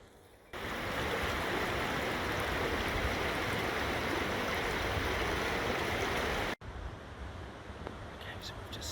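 A river in the Fiordland wilderness rushes loud and steady in a dense broadband roar. It breaks off abruptly for a moment, then carries on slightly quieter.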